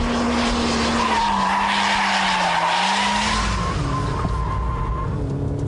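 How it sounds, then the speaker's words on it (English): A front-wheel-drive car skids sideways through a Scandinavian flick at about 65 to 70 mph, its tires squealing loudly and continuously, with the pitch sliding and wavering over a droning engine heard from close by. "you need to resort to the Scandinavian flick, followed by a bit of lift-off oversteer."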